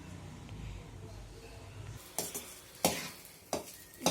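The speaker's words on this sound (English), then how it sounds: "Now mix the rice well with the gravy." A quiet pan hiss runs under the first half. Three or four loud scraping, clinking stirs follow as boiled rice is mixed into vegetable gravy in a pan for veg fried rice.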